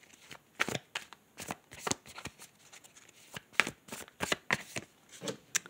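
A deck of tarot cards is shuffled by hand in quick, soft riffling bursts, separated by short pauses, close and quiet with no talking.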